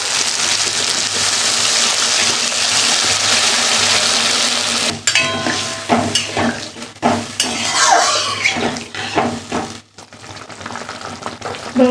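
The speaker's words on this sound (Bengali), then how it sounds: "এবার আমি জল দিয়ে দেবো। মশলার থেকে তেল ছেড়ে দিতে।" Water poured into a pan of hot spices, potatoes and peas frying for a paneer curry sends up a loud, steady sizzle for several seconds, then gives way to close scraping and clinking from stirring.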